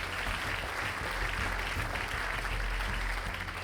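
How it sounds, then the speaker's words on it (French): Audience applause for nominated real-estate deals at the Pierre d'Or 2026 awards in Paris: steady, dense clapping from a large crowd with a low hum underneath, continuous at an even level throughout. "on les applaudit tous les 10"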